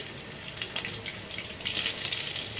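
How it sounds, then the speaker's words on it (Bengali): Green chillies crackle and sizzle as they drop into hot oil in a pan while cooking Bengali chitol fish muitha, a soft hissy sputter with small pops that grows busier toward the end, no voices. "এবার এখানে দুটো কাঁচা লঙ্কা ফোড়ন দিচ্ছি"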